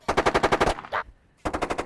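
A battlefield simulator fires bursts of mock gunfire from tiny gas explosions: a loud, close, rapid machine-gun rattle, a brief pause with a single pop, then another rapid burst.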